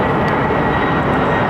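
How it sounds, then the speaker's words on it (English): Boeing 767 airliner at London Heathrow Airport, a loud, steady broadband jet roar filling the whole stretch without a break, close and continuous, with no talking over it. "here we go, 767, here we go, folks, first one of the day"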